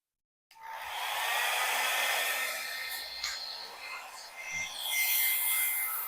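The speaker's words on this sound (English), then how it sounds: "I know my hair dryer is atrocious" A hair dryer, used to dry paint on a canvas, switches on abruptly and blows with a steady, whining roar, the pitch wavering slightly as it's moved about, close to the microphone.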